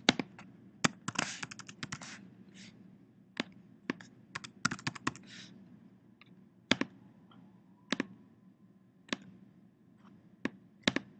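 Typing on a computer keyboard comes in short bursts of keystrokes separated by single sharp clicks, close and fairly quiet, with no talking.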